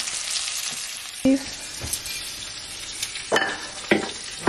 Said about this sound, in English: My mom is making some steak.